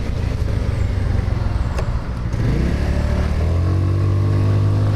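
A Lexmoto Diablo motorcycle ridden through Leeds city centre streets, its engine droning steadily and building after a brief shift, with road and wind noise throughout.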